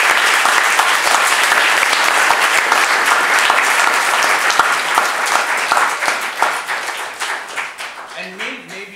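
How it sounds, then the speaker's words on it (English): A crowd at a community town hall applauds a visiting reverend, a loud, sustained roar of many hands clapping that gradually thins into scattered claps toward the end. "give her a round of applause"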